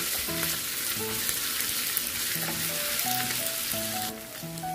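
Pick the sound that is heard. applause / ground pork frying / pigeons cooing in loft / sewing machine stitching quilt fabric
ground pork frying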